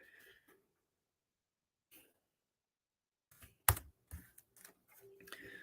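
Short bursts of computer keyboard typing, quiet and close, in a few quick clusters separated by near silence, with one sharp louder click or knock in the middle.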